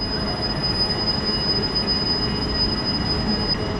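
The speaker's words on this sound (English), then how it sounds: "And there's a train over here, in fact." Train wheels squeal steadily on the rails at a Warsaw station platform late at night, a continuous high metallic screech over a broad rumble, close and loud with no talking.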